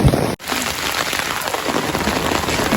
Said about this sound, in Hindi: बहुत तेज बारिश हो रही है जी